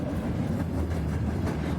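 Train sound effect inside a children's transportation song, a steady rumbling rail roll with faint clickety-clack running continuously and fairly close throughout the short stretch.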